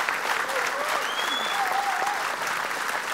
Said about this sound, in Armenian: մեր բարձր ծափահարությունները